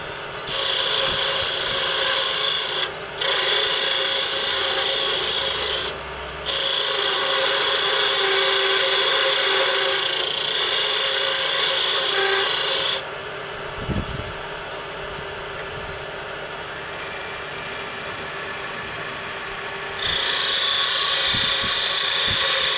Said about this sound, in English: I'm going to make a smoothing cut with the scraper